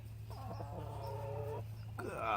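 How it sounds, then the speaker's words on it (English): A very large male chicken lets out a drawn-out, throaty cluck followed by a shorter call, close by against a quiet background hum. "Probably the biggest chicken I've ever seen."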